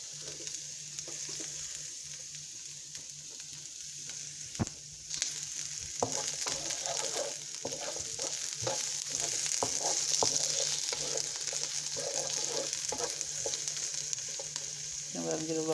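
Onions frying in a pan for Jamaican fried cabbage produce a continuous close sizzle with occasional utensil knocks and stirring scrapes, growing slightly louder partway through, with no talk.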